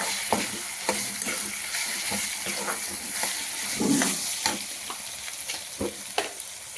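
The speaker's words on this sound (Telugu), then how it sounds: "ఇప్పుడు దీంట్లో 1 టీ స్పూన్ అంత అల్లం వెల్లుల్లి పేస్ట్ వేసుకోవాలి. వేసుకొని కొంచెం ఫ్రై చేసుకోవాలి." Ginger garlic paste sizzling in hot oil for a green eggplant curry, with a steady close fry and repeated scraping stirs of a spoon against the pan, no voices.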